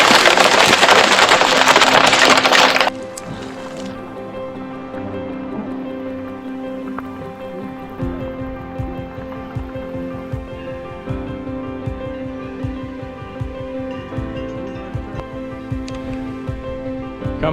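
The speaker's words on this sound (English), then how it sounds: "Major hailstorm right now. Picking up in intensity by the minute." Heavy hailstorm in the Swiss Alps, a dense, loud roar of hailstones for the first few seconds, then a steadier patter of hail striking close by with a low hum underneath.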